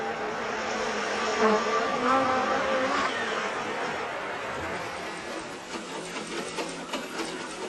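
Bees buzzing in a continuous, dense drone that fills the clip at steady loudness, with a faint murmur of a gathering crowd in a marketplace beneath.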